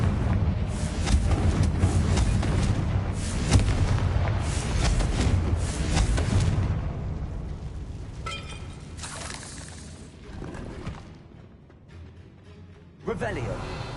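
Confringo blasting spells explode in Hogwarts Legacy, with heavy booming blasts and shattering debris up front, then fading crackles and one final sharp burst, while a voice speaks over the action.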